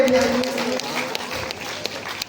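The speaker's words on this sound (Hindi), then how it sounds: "दोस्तों तालियां बजती रहनी चाहिए" An audience at the Mr and Miss Campbell Bay pageant applauds the newly crowned Mr Campbell Bay winner, a steady wash of crowd clapping with a voice or tonal sound layered over the opening moments.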